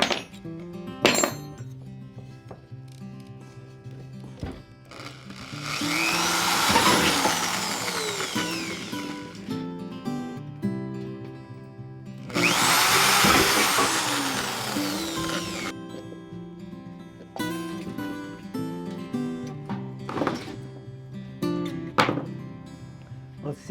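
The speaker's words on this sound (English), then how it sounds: "So I'm going to put some little screws in around the edge that'll kind of rest on the outside of the barbecue." A power drill drives small screws into the rim of a bucket made to sit on a barbecue grill for firing pottery. Two sustained whirring bursts of a few seconds each come up close, with clinks and knocks between them.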